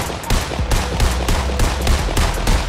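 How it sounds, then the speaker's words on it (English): Scoped assault rifle in Fortnite firing rapid, evenly spaced shots, loud and close, a steady burst of repeated cracks with no pauses. "Scoped AR."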